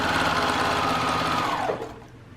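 A sewing machine stitches quilt block pieces together in a chain, running at a steady fast whir up close, then slowing and stopping near the end.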